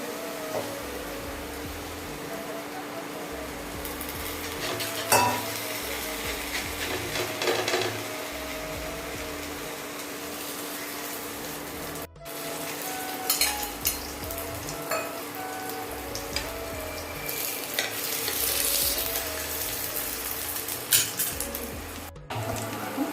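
Sprouted moong thalipeeth frying in oil on a griddle, a steady soft sizzle with intermittent scraping and clinks of a utensil against the pan, no talk.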